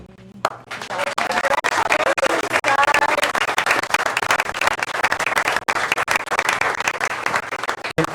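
Loud, sustained applause from a crowd honoring GEM award winners at a school district board meeting, dense clapping filling the room steadily for several seconds after a brief quiet start.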